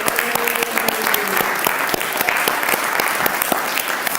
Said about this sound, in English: So can we just give each other a round of applause here for stepping into this?